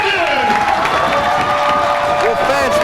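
A loud, packed pro wrestling crowd roars, cheers and claps continuously at the finish of a tag match, with a few higher whoops rising out of the din.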